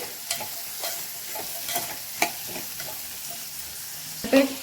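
Cut beans sprinkled with salt are stirred in a hot pan, a soft continuous sizzle broken by several scraping strokes and light knocks of a spoon, ending with a louder clatter.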